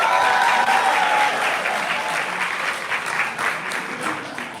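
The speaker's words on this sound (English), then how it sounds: "Big round of applause!" An audience at a live creator event breaks into sustained applause, a dense wash of many hands clapping that stays loud and even before easing slightly toward the end.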